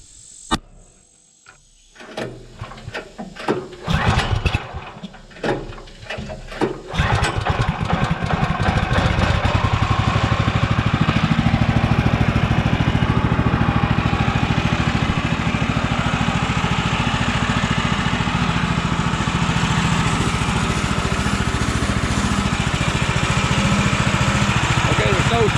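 The engine on a Woodland Mills HM126 sawmill sputters and cranks with uneven knocks and bursts, catches, then settles into a loud steady running roar that holds, with voices talking briefly near the start.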